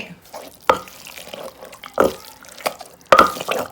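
Hot water goes into a fish chili paste made with mackerel and fermented fish sauce, giving three distinct close splashy drips with faint stirring in between.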